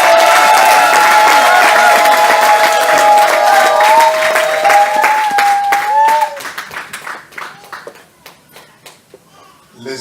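A church congregation applauds loudly at a consecration service for servants of God. Loud clapping and crowd noise rise under a sustained voice, then fade into scattered, fading claps.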